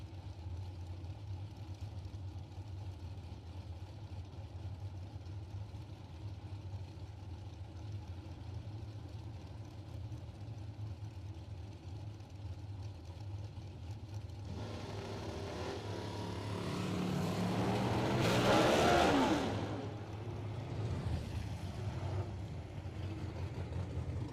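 Drag racing cars idle loudly at a Spring Stampede event, then one launches off the line in a rising, roaring burst of engine noise that peaks and fades as it pulls away, heard from a distance over a steady rumble.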